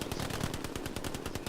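Rapid machine gun bursts in a World War II style online battle game, a steady fast rattle of shots lasting the whole moment at moderate level with no talk.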